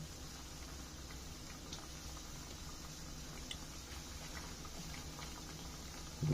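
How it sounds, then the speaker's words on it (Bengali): Egg pitha fries in hot oil, a steady low sizzle and faint bubbling patter continuing evenly without voices. "এই যে ডিম পিঠা এখন তেলের মধ্যে দেওয়া হচ্ছে, গরম গরম তেল"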